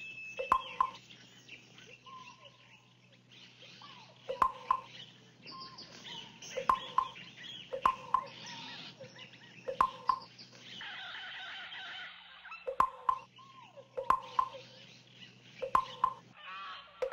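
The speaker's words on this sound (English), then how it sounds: "The chicken lives in a chicken coop." A cartoon chicken in the Curious George Zoomazing video game clucks in repeated short, bright bursts, with game chimes and effects between them over a faint hum.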